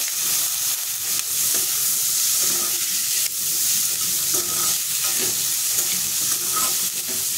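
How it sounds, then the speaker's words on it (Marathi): Previously boiled green peas are tossed and sautéed with spices in a hot pan for aloo matar rolls, giving a steady, close sizzle with soft stirring scrapes throughout. "ह्याच्यामध्ये मी मटर शिजवून घेतलेला आहे, ते टाकून परतून घेणार आहे"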